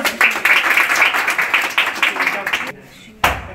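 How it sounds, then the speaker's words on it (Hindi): Classroom of students clapping together in a quick, dense burst of applause, close and loud, fading briefly before one last sharp clap. "ताली मार दो"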